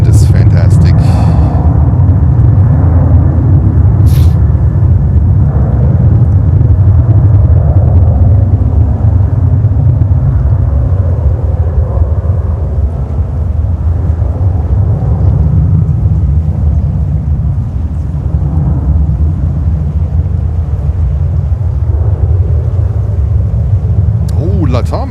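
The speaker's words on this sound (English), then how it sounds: "CF6 engines." An airliner with CF6 jet engines takes off at JFK in cold, windy winter weather, a deep, continuous roar and rumble lasting throughout, with a voice talking over it.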